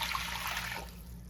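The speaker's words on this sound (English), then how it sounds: "I'm gonna add in 4 cups of water" Water pours steadily into a pot for one-pasta cooking, a close, continuous splashing rush that thins out toward the end, with no talk over it.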